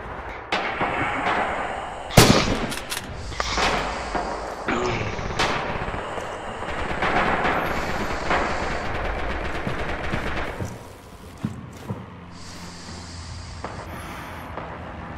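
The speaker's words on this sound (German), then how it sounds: "Feindbeschuss, Feindbeschuss! Im Fenster." Enemy gunfire in an online shooter video game: rapid automatic bursts and sharp single shots crackle steadily throughout, with one loud close report near the start.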